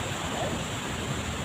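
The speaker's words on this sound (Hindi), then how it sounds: "यहाँ से दिखेगा नहीं अभी, लेकिन आपको आवाज़ सुनाई दे रही होगी झरने की।" A hidden waterfall beside a mountain path in Uttarakhand gives off a steady broadband rush, a moderate, even roar from somewhere out of sight, with no voices over it.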